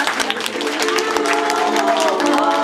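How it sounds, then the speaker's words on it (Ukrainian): An audience applauds loudly and continuously after a concert of Ukrainian songs and Jewish poetry, with a few voices rising through the clapping. "Ще раз ваші оплески, будь ласка"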